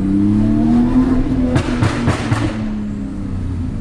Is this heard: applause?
no